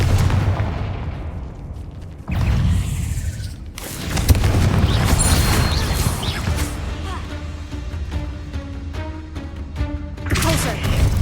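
Confringo spell blasts in a Harry Potter video game, with several loud booming explosions and crashing impacts in quick succession, a voice calling out the spell among them.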